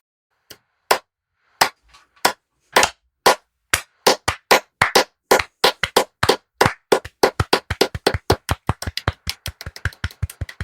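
A slow clap from Home Alone begins with a few isolated, widely spaced claps, then gradually speeds up into a faster, steadier rhythm of sharp hand claps, with no voices.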